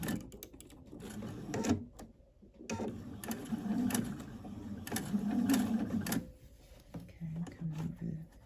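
A sewing machine runs in bursts, stitching a set-in sleeve on a linen shirt between gathered rows, moderately loud and close, with a person talking over and between the stitching.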